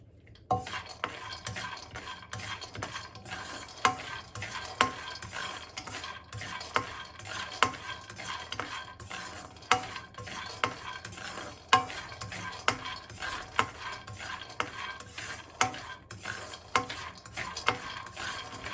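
Chutney ingredients roast in oil in a wok, with repeated scraping stirs of a utensil against the pan over a soft, continuous sizzle throughout.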